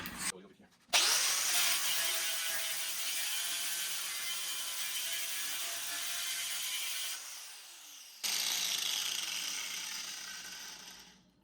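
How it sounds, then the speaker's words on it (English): Power grinder working on coated metal in the wheel well of a 1966 Triumph GT6: a loud continuous high whine and rasp for several seconds, a brief pause, then more grinding. "So let me grind it a little"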